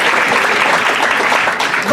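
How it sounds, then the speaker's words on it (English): Audience applause fills a cruise-ship comedy show, a dense, steady clatter of many hands at close range, with faint voices mixed in. "we got applause"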